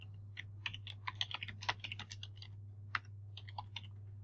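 Quick, fairly light typing on a computer keyboard while editing web-page text in a page-design tutorial, a steady patter of close key clicks with short pauses, alone over a low electrical hum.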